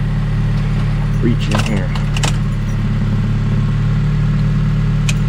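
A car engine idles with a steady low rumble after an empty tank is refuelled with about five gallons, keys jangling nearby as someone speaks briefly over the running motor.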